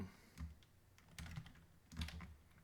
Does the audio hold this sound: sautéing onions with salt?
no